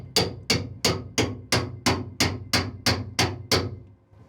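A hammer drives a steel wedge under a welded dog on a boat hull plate: eleven sharp, ringing metallic strikes in an even, steady rhythm, close and loud, followed by a brief silence.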